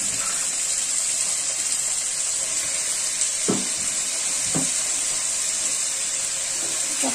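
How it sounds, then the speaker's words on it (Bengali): Potato and carrot pieces sizzling as they go into oil with fried onions, a continuous loud hiss broken by a couple of brief clatters from stirring or pieces dropping in. "পেঁয়াজটি ভাজা হয়ে গিয়েছে, এর মধ্যে এখন আলু আর গাজর দিয়ে দেবো।"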